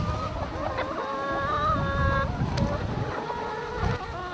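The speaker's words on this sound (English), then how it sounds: "these are my chickens. My chickens are free range. They're ISA Browns." Free-range ISA Brown laying hens cluck and chatter in a busy flock outdoors, with overlapping calls, a steady background hum and some talking mixed in.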